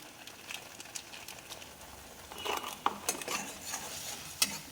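Spices for paneer sautéed in a pan, a soft sizzle under repeated scraping and stirring strokes of a spoon against the metal, close and fairly quiet.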